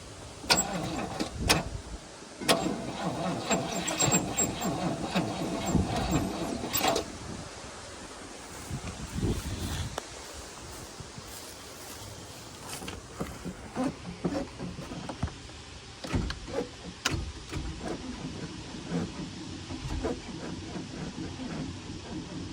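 A V8 Toyota Hilux that sat dumped for a decade cranks over with a weak jump starter, then catches and runs rough, engine noise loud and close with bursts of revving and clanks, fading to a lower idle.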